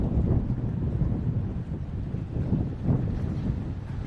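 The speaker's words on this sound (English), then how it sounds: "Things are blowing around here, it's pretty windy." Steady wind roars and buffets the microphone throughout at an outdoor university protest, a continuous low rumbling gust with no other sounds.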